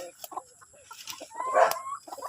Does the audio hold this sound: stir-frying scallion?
no